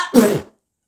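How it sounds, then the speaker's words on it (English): A single loud, close sneeze bursts out about a tenth of a second in and fades within half a second, followed by silence. "Gotta sneeze."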